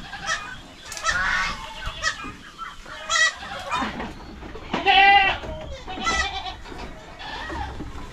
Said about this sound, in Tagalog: Sa ngayon, may 12 tayong maliit na kambing.